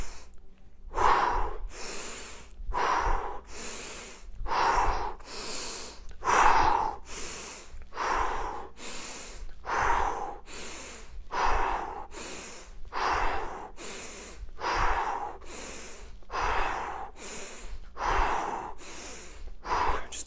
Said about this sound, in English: And we're inhaling, exhaling. Really exhaling as you come down with that dip.